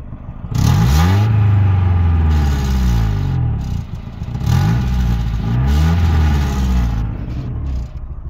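Engine of a 1991 Honda Civic RT4WD wagon, misfiring slightly, heard from inside while driving: loud, close revving that rises and falls in repeated cycles of acceleration with clattering mechanical noise.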